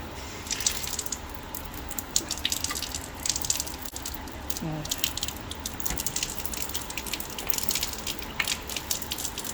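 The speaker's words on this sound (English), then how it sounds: "Let's open the water." A lab water tap runs steadily to rinse a polished alloy sample after acid etching, giving a continuous close hiss and splatter with scattered drips and small clinks.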